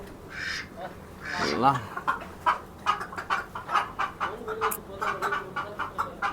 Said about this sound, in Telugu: ఇవన్నీ కోళ్ళు చూడండి